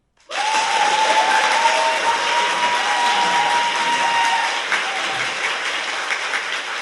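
Studio audience bursts into applause on a Korean talk show, a sudden dense wash of clapping that starts abruptly and holds steady, easing slightly near the end.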